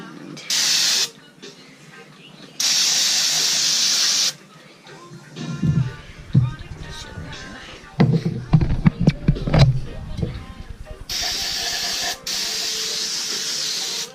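Brake cleaner sprays from an aerosol can onto a sailboat's self-tailing winch in several sharp, loud hissing bursts, with handling clatter and a voice talking between the bursts.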